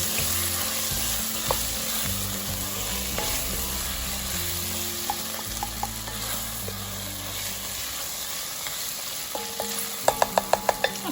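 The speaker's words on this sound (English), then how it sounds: "I'm going to add my tomatoes in. This is 2 14-ounce cans" Canned tomatoes, two 14-ounce cans, go into a hot sizzling pot for Italian-style lentil soup, giving a steady close frying hiss with stirring scrapes and a few sharp metallic clinks near the end.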